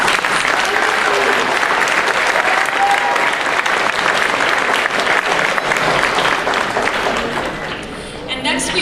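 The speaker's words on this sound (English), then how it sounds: "Let's give them all another round of applause" A large audience at a general session applauds loudly and steadily, dense clapping holding for several seconds before tapering off near the end.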